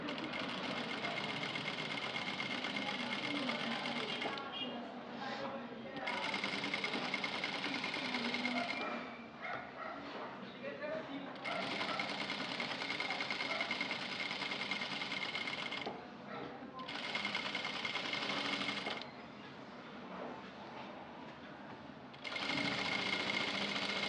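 An electric sewing machine stitches a rounded blouse neck in a fast, steady whirring hum, running in bursts of several seconds separated by brief pauses, heard close and alone.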